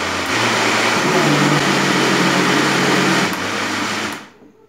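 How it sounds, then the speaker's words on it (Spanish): Loud, steady whirring of a blender motor running close by for several seconds while puréeing a sauce, briefly shifting pitch before winding down and stopping. "Ajustamos la licuadora."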